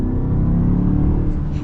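A 2024 Mazda CX-5 Signature engine accelerates, a steady low rumble that swells slightly, heard from inside the cabin with no talking.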